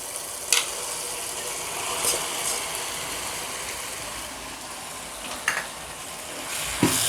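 Chicken frying in a pan with gongura sorrel leaves, giving a loud, continuous hiss of sizzling oil with a few sharp spikes as pieces land or are stirred.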